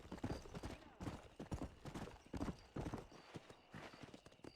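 Rhythmic hoofbeats of a galloping horse in Red Dead Redemption on Nintendo Switch pound steadily and close, with a faint whinny in the mix, quiet overall.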